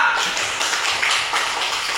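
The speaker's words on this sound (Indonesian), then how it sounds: "tepuk tangan kepada Tirta" Schoolchildren in a classroom clap for a classmate, a short burst of dense, fairly loud applause that fills the room.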